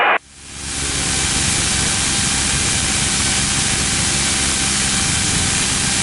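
A Sling light aircraft engine runs steadily in the cockpit, a loud, broad, unbroken roar with airy hiss that settles in after a brief dip at the start and holds constant throughout.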